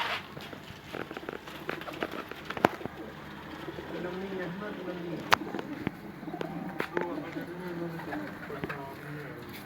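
A jet-black Sialkoti flying pigeon coos in soft, low repeated phrases close by, under someone talking, with scattered clicks and light shuffling noises around it.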